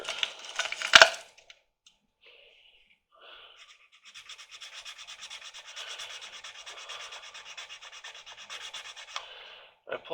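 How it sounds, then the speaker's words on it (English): A coarse sanding stick rubs against a plastic 1/16-scale Jagdtiger tank model in fast, close, rhythmic strokes that run for several seconds after a sharp tap and a brief quiet. "So we're just going to sand this back. Use a little coarser stick here."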